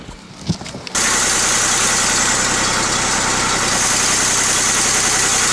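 A 2001 Chevy Impala's 3.4L engine cranks and fires up after a brief quiet moment, then settles into a loud, steady, close idle with constant rumble and no speech.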